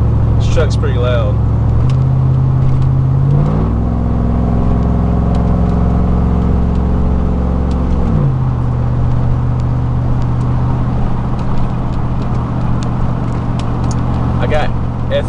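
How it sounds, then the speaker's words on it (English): Loud truck engine fitted with a Magnaflow exhaust delete, revved close up: the pitch steps upward twice, holds a high steady roar, then drops back to a rumbling idle, continuous throughout. "This truck's pretty loud."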